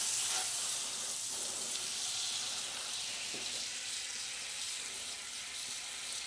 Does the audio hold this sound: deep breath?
no